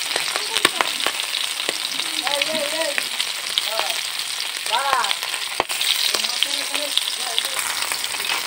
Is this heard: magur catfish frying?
yes